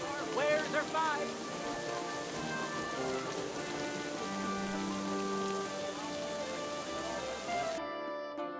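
Steady rain falls in the medieval world of Kingdom Come: Deliverance II, a soft, constant patter under a voice speaking and sustained tonal music, with no thunder.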